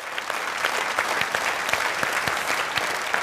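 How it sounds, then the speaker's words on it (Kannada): An audience breaks into dense, continuous clapping for a game-show contestant, loud and sustained throughout without a break. "ಜಯಕ್ಕೆ ಜೋರಾಗಿ ಚಪ್ಪಾಳೆ."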